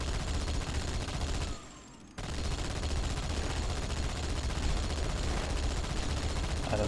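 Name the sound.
shotgun firing in the video game Halo 2: Anniversary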